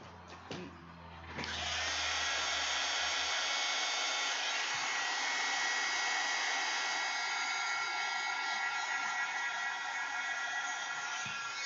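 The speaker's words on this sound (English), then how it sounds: "let me dry with the heat gun because then I know it'll be heat set" A heat gun dries watercolor on a paper envelope, starting with a click and then holding a loud, steady, close whirring blow for about ten seconds.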